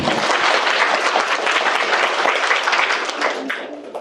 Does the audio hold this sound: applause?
yes